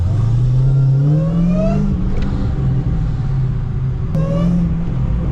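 An SRT Hellcat on bald tires revs hard on a wet road, its loud, close engine note climbing in pitch, dropping back, then surging again as the wheels spin.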